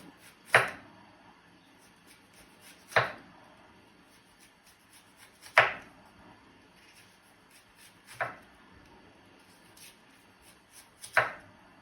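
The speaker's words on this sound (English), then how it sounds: "you're going to slice your red onion into ring onions" A red onion sliced into thin rings: five crisp knife strikes on a board, evenly spaced about two and a half seconds apart, with quiet rustling between.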